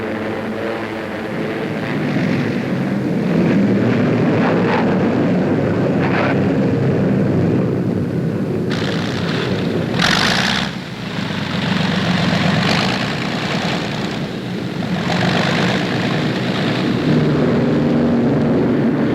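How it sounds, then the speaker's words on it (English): Loud, continuous roar of British warplane engines returning from a strike on Manila Harbor, heavy and low, with a few whooshing surges as planes pass close by. "British planes return from the strike."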